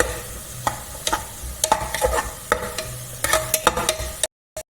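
Small shallots sautéing in a pressure cooker pot for mutton curry, with a low sizzle under repeated sharp scrapes and clinks of a spoon stirring, close and fairly loud, ending in a short silence.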